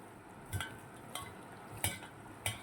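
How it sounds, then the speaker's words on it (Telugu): Curd rice being mixed with salt by hand, soft wet squelching pats repeating about four times at a steady rhythm, close and faint against a quiet room. "ఇప్పుడు చేత్తోనే మనము మెత్తగా కలుపుకోవాలి."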